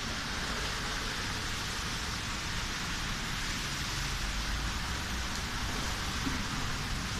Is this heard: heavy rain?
yes